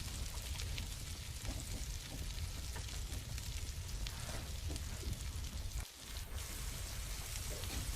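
Tortillas on a buttered skillet give off a dense, steady sizzle like light rain, close and constant, with a brief dip partway through.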